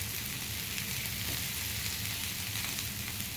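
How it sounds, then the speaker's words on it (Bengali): Garlic, ginger and green chilies fry together in a pan for arhar dal, giving off a steady, dense sizzle throughout with no talking. "সব ইনগ্রিডিয়েন্টসগুলো একসাথে মিলিয়ে ভেজে নিলাম।"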